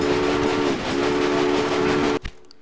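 A steady, loud train rumble with sustained horn-like tones runs in the Railway Empire rail-management game, continuing for about two seconds before cutting off abruptly, followed by a brief thud and near silence.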